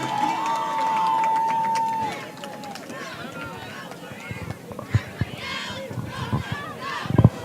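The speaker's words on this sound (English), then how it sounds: "This Warriors crowd is getting very fired up" Crowd at a Waldwick vs Hanover Park high school football game cheers and roars, loud at first with a sustained high whistle or horn, then fading into a busy background murmur with scattered shouts and claps.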